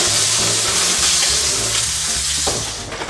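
A ribeye steak sears loudly in a cast iron pan, giving a constant close, dense sizzle and crackle that fills the whole few seconds.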